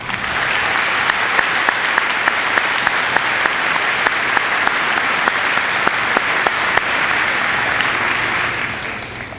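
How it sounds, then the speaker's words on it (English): A large crowd applauds at the 2019 Chisago Lakes High School graduation ceremony, producing an even, sustained roar of clapping with crisp individual claps popping through for about nine seconds before it begins to taper off. "Please join me in a round of applause."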